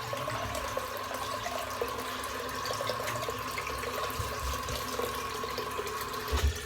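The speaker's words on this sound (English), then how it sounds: "Trying to get a bit of cold water back in the bowl here." Cold tap water runs steadily into a bowl during a head shave, a continuous close hiss of flow with no voices, ending with a few brief knocks.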